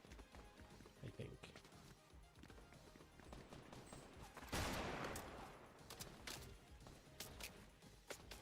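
Gunfire in an online video game played on a live stream, with busy bursts of shots and impacts, one louder blast midway, and other game sounds running throughout.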